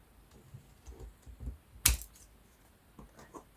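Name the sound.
cutting paper tags from 12x12 sheets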